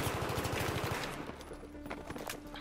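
Rapid automatic gunfire in a shooter game, a fast burst of shots at the start that fades into scattered sharper pops and game noise.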